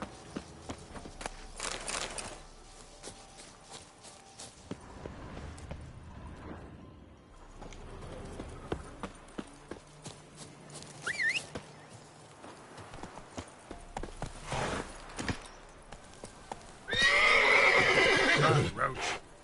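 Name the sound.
horse Roach walking and neighing, from The Witcher 3 video game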